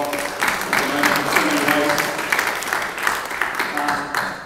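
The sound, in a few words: audience applause in Adelaide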